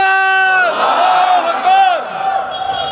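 A large crowd at an Islamic religious gathering in Pabna roars a unison chant in answer to a takbir call, loud and close, with one long sustained swell followed by shorter rising shouts.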